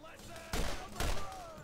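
Two loud bursts of gunfire in the video game Borderlands, each a short broadband crack with a rattling tail, about half a second apart, over faint background game sound.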